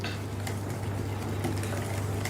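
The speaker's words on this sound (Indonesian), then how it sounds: "Ya, kita masukin semua aduk" Bakwan batter with garlic, salt and spices being stirred in a bowl, soft wet scraping and occasional light clinks of the utensil over a steady low hum, no talk.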